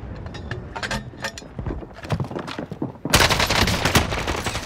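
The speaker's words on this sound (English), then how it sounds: "Receiving hostile fire." Rapid bursts of automatic gunfire in a combat video game, loud and close, with scattered shots early and then a dense, sustained volley in the final second and a half.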